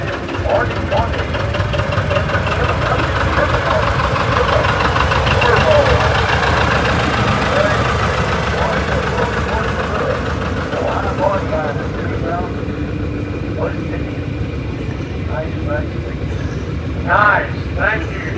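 A 1969 John Deere 4020 tractor idles at a tractor parade at an Oliver show in Boonville, Missouri, giving a steady, loud low engine rumble throughout, with a crowd and announcer talking over it.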